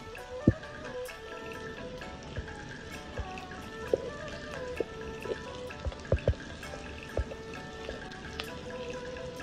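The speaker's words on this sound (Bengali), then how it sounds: "আলুটা ভালোভাবে ভেজে নিচ্ছিলাম মাছের মতো করে।" Potatoes fry in hot oil beside large mrigal fish pieces, a soft continuous crackle and sizzle dotted with sharp pops and spits, fairly quiet and steady throughout.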